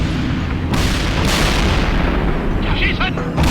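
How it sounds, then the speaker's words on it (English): Artillery shells landing around tanks in the Cold War strategy game World in Conflict, a dense roar of heavy booms and blasts piled on a constant rumbling battle din, with voices shouting over it. "That damn artillery is landing all over my tanks!"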